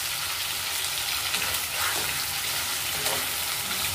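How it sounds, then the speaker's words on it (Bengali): Paneer fries in a pan with a continuous, fairly close crackling sizzle and some faint clatter underneath, steady for the whole stretch. "দেখো পনিরটা আমি ভালো করে ভাজবো"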